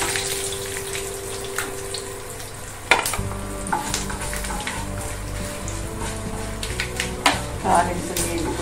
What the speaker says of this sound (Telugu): తాలింపు వేగిపోయింది. చక్కగా దోరగా వేయించుకోవాలి.